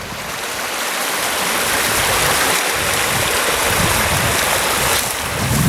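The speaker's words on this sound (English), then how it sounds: "the river looks so placid now" The Water of May flows along placidly, a constant broad rushing of water heard close with some wind buffeting the microphone.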